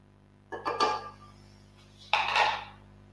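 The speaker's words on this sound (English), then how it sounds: "scrape the excess off the spatula" A spatula scrapes excess batter off against a mixing bowl in two short, close scraping strokes about a second and a half apart, with quiet room tone between them and no talking.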